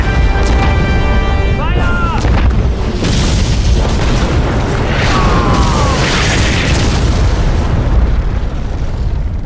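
Artillery fire and explosions in a Codename: Panzers Phase Two cutscene, a steady dense roar of booming blasts lasting throughout, with shouted voices and tonal sound effects layered over the battle.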